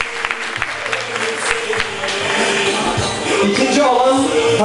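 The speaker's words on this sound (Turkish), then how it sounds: "Kuvvetli alkışlarınızı davet ediyoruz" Audience applause at a Sultangazi award ceremony, dense steady clapping from many hands that swells slightly louder toward the end, with faint murmuring voices underneath.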